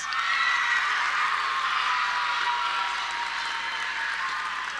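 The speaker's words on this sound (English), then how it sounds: "Give them a round of applause." Audience applause at a school promotion ceremony, a steady wash of clapping from the crowd that stays loud and even throughout before easing slightly near the end.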